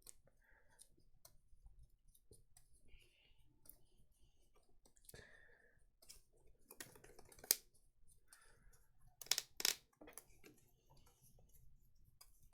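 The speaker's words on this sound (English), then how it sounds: "so I'll shuffle." A deck of Pokémon trading cards being shuffled at a table, quiet papery clicks and riffles running through, with a couple of louder snapping riffles near the end.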